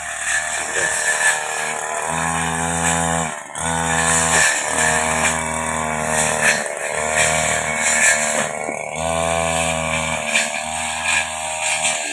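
A grass cutter's small two-stroke engine runs outdoors in a field, revving hard in repeated bursts about every couple of seconds with brief drops between them, loud and close with no talk.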